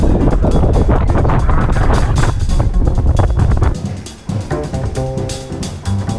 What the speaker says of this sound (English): It's getting rather windy.